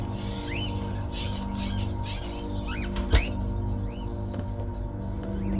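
Caged crows in the video game Fahrenheit: Indigo Prophecy Remastered give scattered brief upswept chirps over a constant low drone, with one sharp knock midway and no voices.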